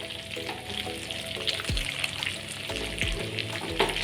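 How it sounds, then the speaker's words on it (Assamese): Chopped onions fry in a pan alongside meat that has released its own oil, giving a steady close sizzle with occasional stirring scrapes and clicks throughout. "এনেদৰে ফ্ৰাই কৰি পিয়াজখিনি ভালদৰে ফ্ৰাই হ'বলৈ দিম"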